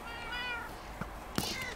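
A cat meows once in the Minecraft video game, then a couple of short sharp hits follow over faint background sound.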